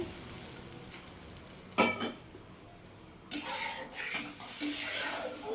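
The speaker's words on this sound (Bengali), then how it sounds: "এবার আমি জল দিয়ে দেবো" Water is poured into a pan of spice-fried, half-cooked potato and eggplant for thin pomfret curry: a quiet sizzle broken by two sharp, loud hissing bursts, then a lingering fizz.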